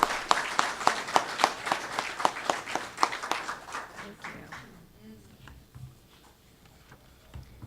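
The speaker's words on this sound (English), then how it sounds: "Give her a round of applause" A press-event audience at a nursing home protection announcement claps in quick, even beats that are loud at first and trail off after a few seconds into quiet room noise.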